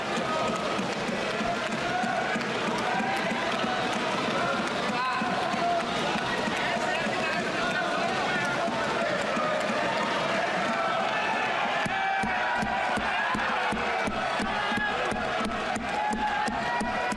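Large crowd at a political speech claps and cheers continuously, a dense roar of applause and shouting that fills the space for several seconds, praising railway employees.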